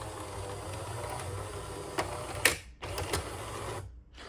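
A disassembled Jura C9 coffee machine runs its internal mechanism with a steady mechanical whir and hum, a couple of louder clunks partway through, then stops abruptly.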